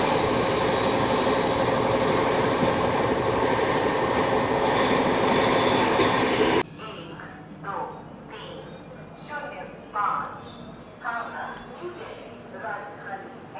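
The Howrah Rajdhani Express (12305) roars loudly along the rails with wheel squeal for about six seconds, then cuts off, leaving quieter scattered knocks and clatter in a station setting.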